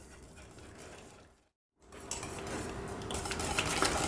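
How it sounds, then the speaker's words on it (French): Butter and melted chocolate whisked together in a bowl for a chocolate galette des rois: rapid, close metallic scraping and clinking of the whisk against the bowl, broken by a brief silent pause, then resuming louder. "là je fouette pour bien intégrer donc le beurre et le chocolat"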